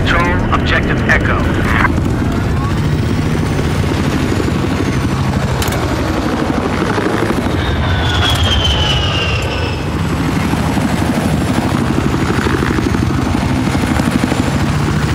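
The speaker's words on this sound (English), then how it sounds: "I spotted a hostile helicopter due south of your position." A video game attack helicopter's rotor thumps continuously at close range, a heavy droning roar with occasional whines and clanks layered over it.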